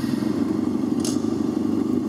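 Emula electric motorbike idling with a steady engine-like hum, and a single brief mechanical clack midway as the gear is engaged.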